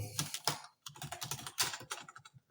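Computer keyboard keys tapped in quick irregular bursts with a short pause, close and fairly quiet, while HTML table code is typed in a beginner web tutorial.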